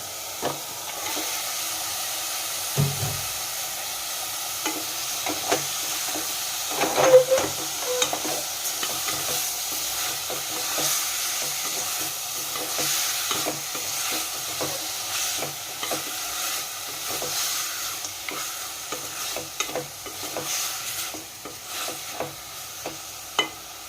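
Mutton sizzles and fries in a pan with bay leaves and chillies, a steady soft hiss with intermittent stirring scrapes and clacks, fairly quiet and close throughout.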